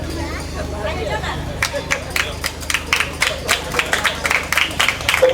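An audience claps in a burst of steady, quick clapping that builds and grows denser, with crowd murmur and a voice talking under it at a gathering.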